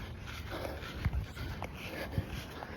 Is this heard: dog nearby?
yes